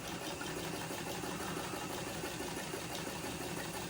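A White 1265 sewing machine runs steadily for a few seconds, giving off an even mechanical whir with a fine rapid chatter. It is fairly quiet and there is no talking.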